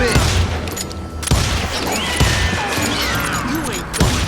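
Gunfire in the Western shooter Call of Juarez: Gunslinger, a loud volley of shots at the start and more sharp bangs later, with whizzing ricochet-like sweeps and game effects throughout.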